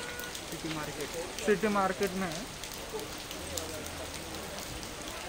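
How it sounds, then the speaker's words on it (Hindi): Heavy rain pours down in the city market at Mahabaleshwar, a constant hiss and patter of drops on surfaces, while someone talks over it near the start. "बहुत जोर से बारिश चल रही है और फॉग आ रहा है।"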